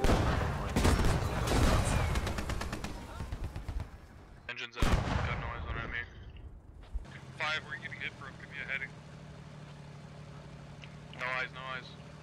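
Gunfire and explosions in the Squad video game during a tank battle, rapid bursts and heavy booms early on, then a low engine drone, with players talking over it throughout.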